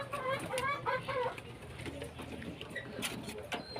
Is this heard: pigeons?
yes